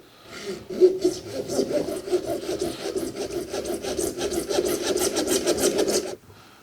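A Vaughan bear saw cuts wood in rapid, even back-and-forth rasping strokes, close and moderately loud for about six seconds before stopping abruptly.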